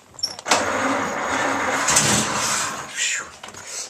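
A 1921 Paige car engine, long unused, cranks over with the choke on, giving a brief rough starting burst and a sustained mid-pitched churning run of a few seconds before easing off.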